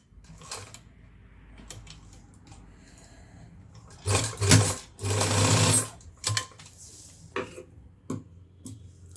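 Sewing machine stitching a zip onto a school coat, with short bursts of rapid mechanical whirring between quiet pauses and soft handling noises.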